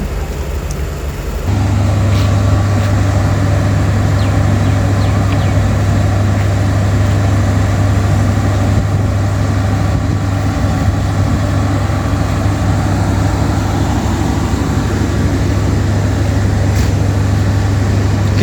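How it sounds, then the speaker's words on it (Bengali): A stationary train's heavy engine starts and settles into a loud, steady low drone, idling continuously up close with a constant rumbling hum. "ট্রেনের ইঞ্জিন চালু করেছে"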